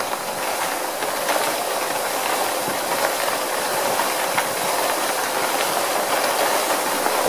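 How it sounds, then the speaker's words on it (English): Brass cartridge casings and steel pins tumble inside a rotating tumbler barrel, a dense, continuous rattling and clinking wash at steady volume, with no talking. "you can see the tumbling action of the pins and the brass inside the barrel"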